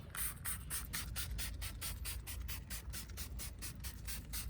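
Faint, rhythmic rubbing and brushing strokes pass over a car tyre with a brush, spread with non-acid wheel cleaner, each scrub repeating steadily about every quarter second over a soft background hiss.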